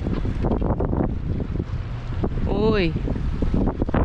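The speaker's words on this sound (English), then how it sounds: "There's a wind." Steady wind gusts across the microphone at Kahului Harbor, a continuous broadband rush throughout, with a brief voice and a short tonal call partway through.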